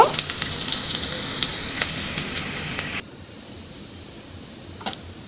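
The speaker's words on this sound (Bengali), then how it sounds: "পেঁয়াজটাকে আমি হালকা ব্রাউন কালার করে ভেজে নেব" Chopped onion with cloves and black pepper fries in oil for a mutton curry, giving a loud sizzling hiss that drops abruptly to a faint background after about three seconds, with a few stirring taps.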